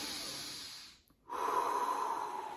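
A deep breath is drawn and released during a slow neck-injury breathing exercise, a soft airy inhale hiss, a brief pause, then a louder steady exhale close to the mic.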